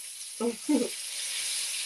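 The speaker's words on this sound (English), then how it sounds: "That sizzle." Pork loin sizzles in gravy in a frying pan, a steady broadband hiss running throughout, with two brief low voiced murmurs breaking in near the start.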